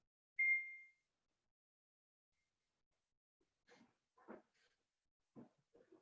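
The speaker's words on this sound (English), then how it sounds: "just sent a text message and you might have heard the ding" A phone rings out a single clear text message notification ding in a quiet seminar room, followed by a few faint scattered sounds.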